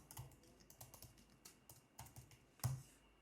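A computer keyboard is typed on in a quick, uneven run of crisp clicks with a sharper keystroke near the end, close and faint with nothing else around.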